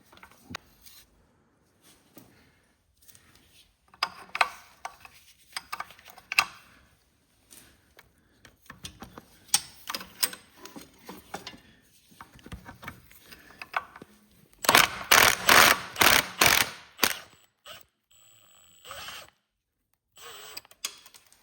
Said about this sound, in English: we're going to run these 3/8 bolts right down to the last thread